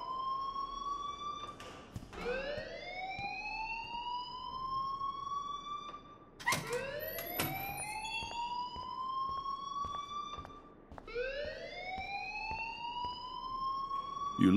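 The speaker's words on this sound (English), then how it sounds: "please turn off that alarm since that's your job." A school alarm in the video game Life Is Strange rings in repeated rising, siren-like electronic whoops, loud and continuous, with three long sweeping cycles and no talk over it.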